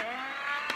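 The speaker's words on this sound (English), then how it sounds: "the motor just sounds sad" A small BB-8 toy robot's motor whirs in a steady, close, thin whine for under a second, with a brief soft bump near the end.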